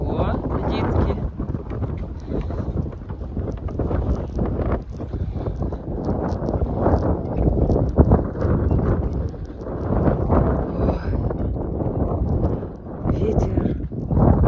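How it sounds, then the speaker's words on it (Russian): Strong wind buffets the microphone in a constant loud roar by a suspension bridge over a fast river in Ust-Ukhta, Komi Republic, with rustling gusts throughout and voices faintly under the noise. "Ветер ужасный."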